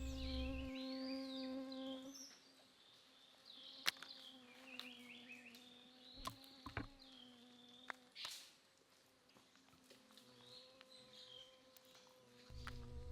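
A bee buzzes in wavering passes around a young stump-tailed macaque in a Thai national park forest, faint and intermittent against quiet ambience with occasional soft thumps and rustles.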